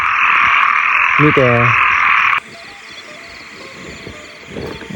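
Frogs croak at night in rural Laos: a dense, loud insect-like chorus with a few deep throaty croaks, then the din cuts out to a quieter night background with a brief spoken word.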